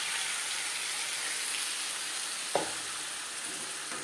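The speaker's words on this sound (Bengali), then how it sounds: "মুসুরির ডাল 2-3 মিনিট নাড়াচাড়া করে নেব।" Masoor dal frying with radish in a pan, a soft steady sizzle and hiss with one brief knock of stirring near the middle, fairly quiet and without talk.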